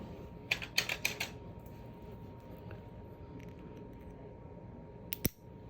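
Small scissors or nail clippers snip excess off an artificial nail tip, a quick cluster of four or five crisp clicks near the start and one more snip near the end, close and quiet over a faint steady hum.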